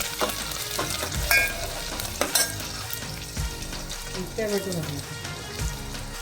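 Curry leaves hit hot oil with frying onions in a pan for sada sambar, crackling and spitting in sharp bursts over a continuous sizzle, close and lively, with occasional stirring scrapes.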